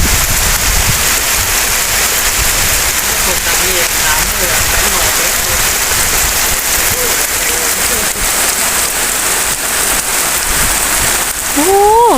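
Heavy storm rain pouring over farm fields, a loud, continuous hiss and patter that stays steady throughout, with a short rising tone near the end.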